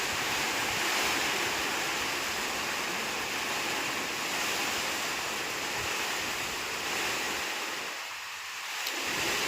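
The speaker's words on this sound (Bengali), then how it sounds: "প্রচুর বাতাস আর বৃষ্টি, জোয়ারাইতে আরো বৃষ্টি নামছে, পুরা বৃষ্টি নামছে।" Heavy wind and rain storm roar steadily as a dense, continuous wash of noise, loud and close, easing briefly near the end; no voices.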